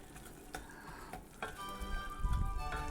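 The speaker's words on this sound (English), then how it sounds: "So I'm stirring it constantly to make sure that it doesn't burn on the bottom of the pan" Butter and sugar melting together in a pan for an apple cake are stirred steadily, with soft close scrapes of the utensil over a quiet sizzle and a low bubbling swell near the end, with no speech.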